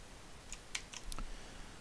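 Faint computer keyboard typing, a few soft, quick key clicks spread across a couple of seconds, quiet and with no talk.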